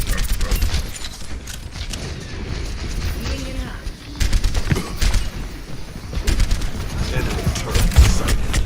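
Rapid automatic turret fire in the Overwatch video game, a dense crackling barrage with mechanical clanks that keeps going throughout, with voices talking over the shots.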